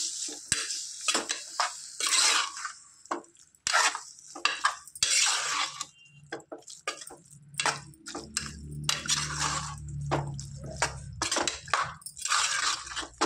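Half a kilo of tomatoes stirred in a pan on a gas stove for a tomato egg curry, with repeated scraping and clinking of a spoon against metal over a soft sizzle, close and alone.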